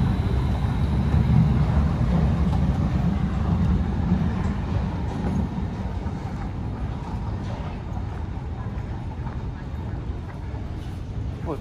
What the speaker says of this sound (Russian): Вот венское метро.